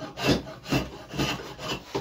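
A drawknife shaves an axe handle in quick repeated strokes, about five rasping scrapes of blade on wood in an even rhythm, close and alone.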